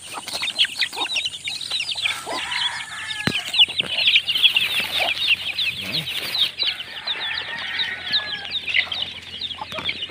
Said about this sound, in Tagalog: Parang gutom, sobrang gutom ang ating mga sisiw mga kaibigan.